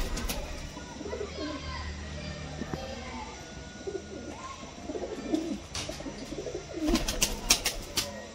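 Pigeon chicks and breeder pigeons cooing softly and intermittently at close range in a loft, under steady background noise, with soft higher calls and a few louder bursts toward the end.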